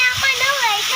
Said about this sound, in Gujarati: આ કેવો વરસાદ આવે છે જો તો ખરા.